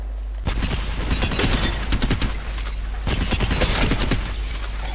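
Rapid bursts of gunfire from a weapon in a video game's aim practice mode, two loud sustained volleys separated by a brief pause.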